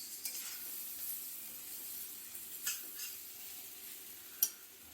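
Boiled chow mein noodles are added to a hot pan with fried vegetables and egg, producing a faint, steady sizzle with soft scraping stirs and a sharp utensil clink near the end, no voices.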